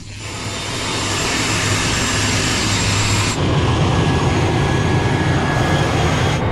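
Steady, loud cabin drone of a passenger airplane on the flight from Fiji to Tuvalu, a continuous engine roar with a whining tone that shifts slightly midway, heard alone without talk.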